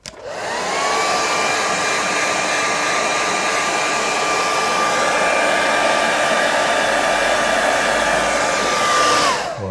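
Hair dryer blowing on a watercolour painting to dry it, a loud steady whooshing hum with a whining tone that switches on, runs unbroken for about nine seconds, then cuts off.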